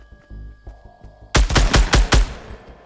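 Gunfire in Fortnite: a rapid burst of about five loud, close blasts breaks in after quieter thuds and footsteps.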